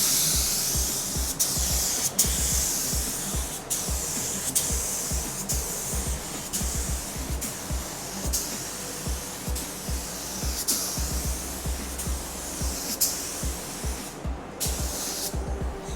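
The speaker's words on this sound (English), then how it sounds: "Spraying's very nice." Paint sprayed in wet coats onto a Volkswagen Beetle during a rebuild gives a continuous, close hiss from the spray gun, pulsing slightly as passes are made, with short pauses between bursts.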